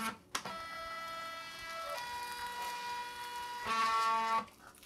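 A Brother PocketJet thermal printer feeds a tattoo stencil sheet with a steady, whining mechanical tone that shifts pitch in stages and holds for several seconds before stopping abruptly, close up and with no talking.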